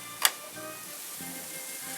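Pork roll sizzles on a Blackstone griddle with a soft, steady frying hiss, broken once early by a single sharp tick or click.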